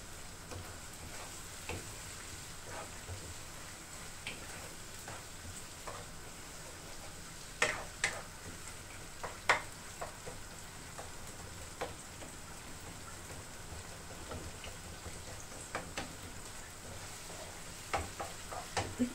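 Washed minced meat keema cooking in a pan over medium heat, a steady low sizzle with occasional soft stirring scrapes and ticks, close and continuous, no talking.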